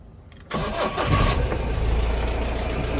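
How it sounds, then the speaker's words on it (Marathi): A truck engine cranks and catches after a brief quiet moment, then settles into a loud, steady, close-up rumbling idle. "गाडी चालू झालेली आहे."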